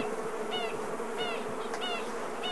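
Honeybees hum around an opened Langstroth hive, a dense steady buzz close at hand with individual bees whining past every second or so, no voices.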